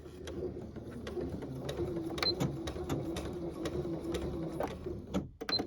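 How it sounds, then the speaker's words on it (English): A Janome sewing machine stitches forwards and then back along the very edge of a piece of fabric, giving a steady close whirring hum with a fast rhythmic needle tick that runs for several seconds and stops at the end. "we're going to do a few stitches forwards, a few stitches back on the very edge of the fabric"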